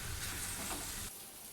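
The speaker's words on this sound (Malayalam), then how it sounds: "എന്നിട്ട് ഈ പൊടികളും കൂട്ടി നന്നായിട്ട് ഒന്നുകൂടി മിക്സ് ചെയ്തെടുക്കാം." Spice powders being stirred into bitter gourd frying in a pan, a steady close sizzle that drops abruptly to a quieter hiss partway through, with no talking.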